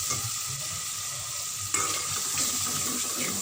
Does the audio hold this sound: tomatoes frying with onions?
yes